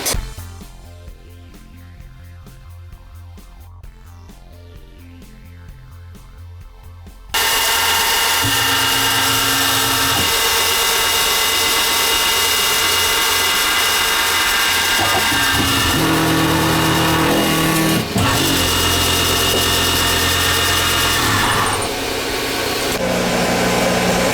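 A loud, steady CNC machine whine with a motor drone starts abruptly after a quieter stretch, continuing with slight shifts in pitch as the drill spindle runs, drilling holes in a panel top plate.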